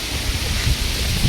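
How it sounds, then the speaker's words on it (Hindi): Heavy evening rain pours steadily around a rooftop, a dense continuous hiss, with low rolling thunder rumbling repeatedly beneath it throughout. "बारिश का बहुत तगड़ा मौसम हो रखा है, बिजली भी कड़क रही है"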